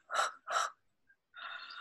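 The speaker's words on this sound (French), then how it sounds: "Et puis avec un bon bâillement derrière" During a seated breathing and upper-body stretching routine, a person takes two sharp, airy inhalations, falls quiet briefly, then lets out a long, breathy yawn-like exhale, close and fairly soft.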